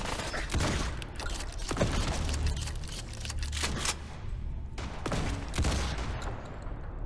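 A companion fires a zap gun in a video game, giving off repeated crackling electrical bursts and sharp zaps over a steady, busy background, fairly close and continuing throughout.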